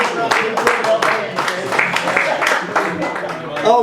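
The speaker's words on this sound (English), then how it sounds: "Come on, folks, give them a round of applause." Scattered clapping from a small audience at a George Formby ukulele show in Blackpool, uneven, with a voice talking over much of it.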